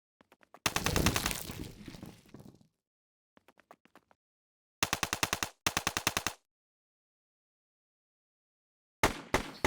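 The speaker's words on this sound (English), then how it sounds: "the shotgun shoots repeatedly and fires off like 7 shells" A shotgun in the video game Digital Invasion fires repeatedly, loosing about seven shells per trigger. Loud, rapid bursts of blasts break off into silence and then resume in short volleys.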